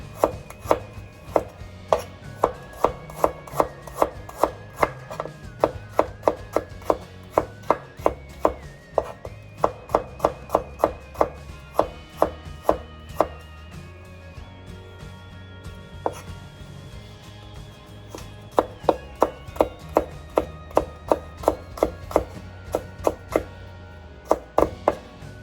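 A knife slices ingredients for Filipino chicken and pork adobo thinly on a cutting board. Rapid, regular, sharp chops run close and loud, with a brief lull partway through before the rhythm resumes.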